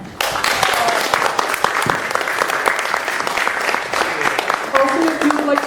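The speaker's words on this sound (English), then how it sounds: "So thank you very much, and a round of applause." An audience at the end of a Q&A session breaks into sustained applause, many hands clapping loudly and evenly throughout with no pause.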